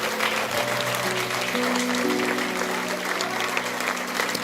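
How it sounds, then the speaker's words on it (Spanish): Church congregation applauding during a Spanish-language worship service, a dense steady wash of clapping filling the room, with a held musical tone sounding underneath. "Denle un fuerte aplauso al Señor."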